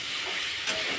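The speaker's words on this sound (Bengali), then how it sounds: "এর মধ্যে ভেজে রাখা পটলগুলো দিয়ে দেবো, দিয়ে এটাকে কষতে থাকবে।" Fried pointed gourd sizzles in spices in a pan, giving a brief, steady, close hiss of frying.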